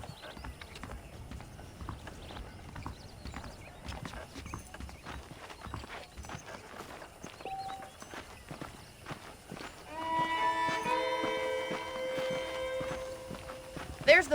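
Horse hooves clip-clop steadily at a walking pace in the video game Red Dead Redemption, under ongoing talk, with music rising in the final seconds.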